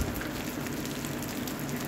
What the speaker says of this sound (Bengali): যতক্ষণ না পর্যন্ত তেল ছাড়ছে তো মশলাটাকে আমি ভালো করে ভেজে নেব।